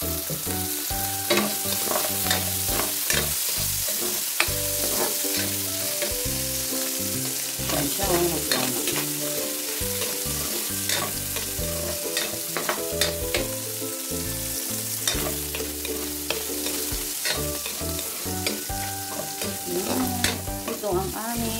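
Pancit bihon rice noodles stir-frying in oil in a pan, a continuous sizzle with repeated clinks and scrapes of the stirring utensil throughout, close and steady, with no voices.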